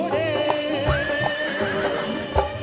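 A horse neighs over song backing music about Chetak, Maharana Pratap's horse: one clear rising whinny with faint hoof-like thumps, set against a sustained musical drone.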